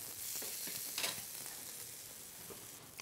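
Potato dumplings fry in a pan with a steady, close crackling sizzle, soft spits and pops scattered over the hiss, with no voices.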